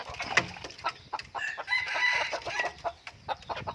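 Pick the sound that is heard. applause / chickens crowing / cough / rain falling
chickens crowing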